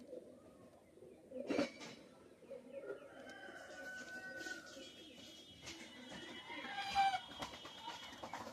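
Pakistani teddy pigeons from a master bloodline coo faintly amid a busy background of other birds and a brief sharp clatter, with no talking.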